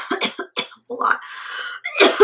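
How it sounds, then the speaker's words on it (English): Several harsh coughs in quick bursts, close to the microphone, followed by a throat-clearing rasp. "I had a moment of coughing."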